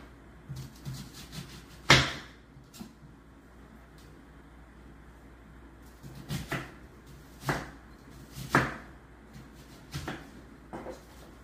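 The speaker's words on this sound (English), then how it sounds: "We're gonna cut up some onions." Knife chopping onions on a cutting board while preparing smoked chicken breast, heard as a few scattered sharp knocks spread out with quiet gaps, fairly close and not loud, with no talk over them.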